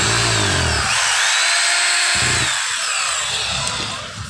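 A repaired jackhammer with a fixed power cable runs loudly and close, a harsh continuous motor roar that briefly cuts out and then restarts, with no talk.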